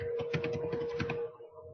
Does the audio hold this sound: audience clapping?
no